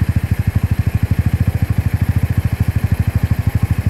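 A motorbike engine fitted with an HHO tube cell runs at a steady idle, giving a close, loud, rapid, even chugging pulse that continues throughout with no talking.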